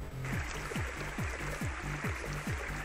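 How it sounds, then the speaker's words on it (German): Small waterfall in a forest, a steady broadband rush of falling water running continuously and fairly close, with faint periodic low sweeping tones layered underneath. "Ja, ist schon beruhigend, so ein kleiner Wasserfall."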